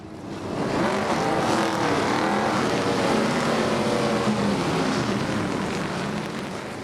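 Loud, sustained roar of NASCAR stock cars on the concrete oval at Richmond Raceway, Virginia, a dense wall of engine noise with layered revving tones swelling and holding steady throughout.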